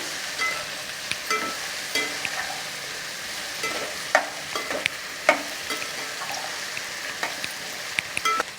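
Okra stir-frying in a pan, a steady sizzling crackle broken by repeated sharp spatula scrapes and clicks at irregular intervals, close and fairly loud, with no speech.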